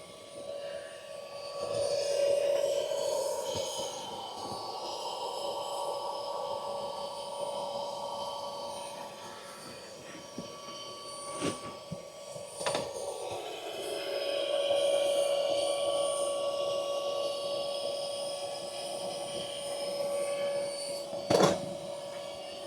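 A Zuxiga electric high-pressure two-stage paddle board pump running with a steady mechanical whine and hum, its tone shifting partway through, with a few sharp clicks and knocks along the way.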